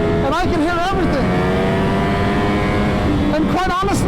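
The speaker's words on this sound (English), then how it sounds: "I'm hearing all sorts of melodies from the Akrapovic exhaust." A Ducati V4 R motorcycle with an Akrapovic exhaust revs loudly up close, throttle blips rising and falling in rapid waves over a constant engine roar.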